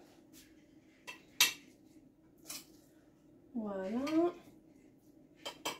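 Reheated rice spooned onto a plate for ratatouille, heard as a few light clinks and scrapes of a spoon against the dish, with a brief squeaky scraping burst and a short spoken word nearby.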